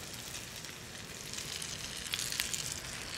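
Egg frying in a pan with grated Fontina melting on top, giving a steady soft sizzle throughout with a few brighter crackling pops near the end, no talking.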